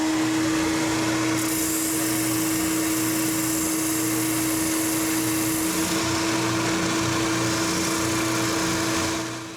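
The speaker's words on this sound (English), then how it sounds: "it's over to my spindle sander where I can sand those curves nice and smooth" Spindle sander smoothing curved edges on a wooden workpiece in a workshop, a steady close motor whine with a constant tonal hum and a brighter hiss of abrasive contact rising and falling as the wood is pressed in, no talk.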